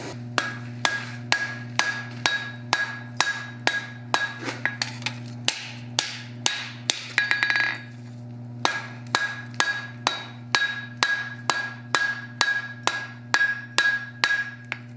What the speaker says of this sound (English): This is a domed hammer, by the way,